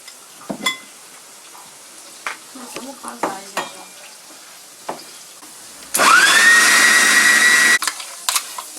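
Ingredients for a Mauritian biryani are stirred in a rice pot with scattered clinks and scrapes, then a loud steady hiss with a rising whine lasts about two seconds before the quieter stirring resumes.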